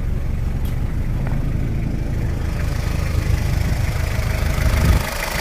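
A 1977 Toyota Hilux with a 2L turbo diesel engine idling, a steady, loud, close rumble that runs continuously without a break.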